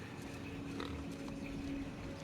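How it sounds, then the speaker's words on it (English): Pigs in the sci-fi video game The Outer Worlds give short oinks and grunts over a steady droning ambient hum, fairly quiet. "More cysty pigs."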